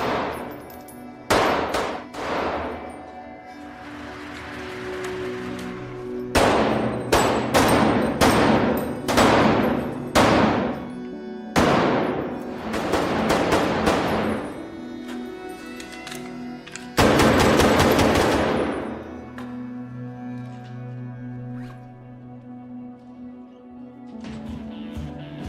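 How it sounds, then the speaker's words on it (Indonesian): Rapid gunfire from an action film shootout, loud bursts and fast volleys separated by brief pauses, with a low rumbling score underneath. "serentetan tembakan yang tepat pada target"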